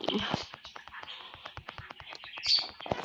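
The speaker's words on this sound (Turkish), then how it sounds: "Şu an bu, bizim evde kuşlar var." Pet birds kept indoors at home chirp and tweet in quick, faint calls, with a thin high whistle near the end and scratchy clicks scattered throughout.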